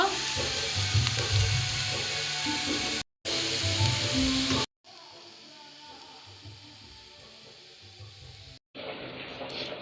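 Red beetroot fries in mustard oil with a loud, constant hissing sizzle close by, broken by a few abrupt silent gaps and then resuming more softly.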